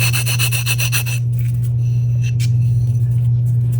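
Nail file rasped back and forth over the edges of a resin casting, a quick run of rhythmic scraping strokes that stops after about a second, then quieter handling over a steady low hum.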